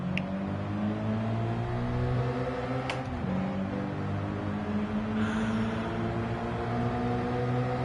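Race car engine in Gran Turismo 7 holding a steady, droning high-rev tone with gear-shift dips around mid-clip, sustained and fairly loud with no talking over it.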